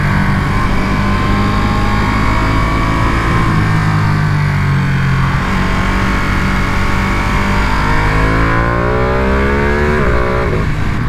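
A Ducati Panigale V2 motorcycle engine roars loud and close while being ridden through corners, its revs climbing and dropping in smooth sweeps with quick shifts and no talking.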